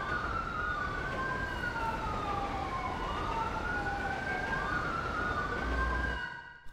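Ambulance sirens in the GTA V LSPDFR police mod, two wailing tones rising and falling over each other with a steady vehicle rumble beneath, loud and continuous before cutting off at the end.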